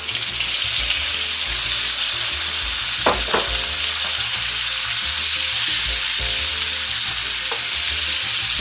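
Dried shrimp sizzling loudly in a hot pan, a dense constant frying hiss that continues without talk, with a couple of brief clicks partway through.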